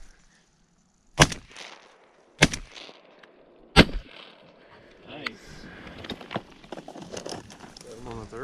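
Three sharp shotgun blasts ring out about a second apart during a North Dakota waterfowl pass-shoot between two ponds, loud and close, then hunters talk quietly over outdoor ambience.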